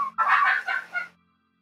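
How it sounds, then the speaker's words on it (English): Turkey outdoors gives a single short, warbling gobble-like call lasting about a second, fairly near and moderately loud, then falls silent with no talking over it. "That's a turkey."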